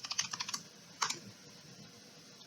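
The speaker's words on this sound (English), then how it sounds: "I can type a note, so Control N, and just type in something like" Someone types on a computer keyboard in a quick run of close, crisp key clicks, then one more pair of taps before quiet.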